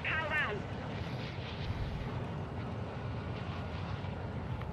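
Steady droning rotor-and-engine roar of a helicopter in the video game Call of Duty DMZ, a continuous loud wash filling the whole stretch, with a brief higher chirping effect near the start.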